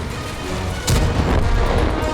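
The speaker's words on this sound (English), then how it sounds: "An artillery strike blows off a track." An artillery strike in a tank battle video game lands on a tank and blows off a track, a single loud boom bursting in partway through over a steady roar of battle noise.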